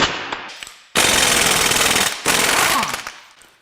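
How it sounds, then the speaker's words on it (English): Rapid, loud impact-gun rattles in two long bursts with a brief gap as the variable valve timing cam gear and timing chain come off a GM L87 6.2L V8 during teardown, close and alone. "Next, we'll remove the variable valve timing cam gear and timing chain."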